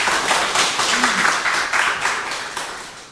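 A church congregation claps in praise during a service marking the church's founding anniversary, brisk rhythmic clapping that slowly fades over about three seconds, with a voice faintly underneath.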